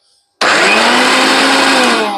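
A kitchen mixer grinder blending coriander, green chili, garlic, cumin and amla starts abruptly after a brief silence, then runs as a loud, steady motor whir with a continuous rattling grind of the ingredients to the end.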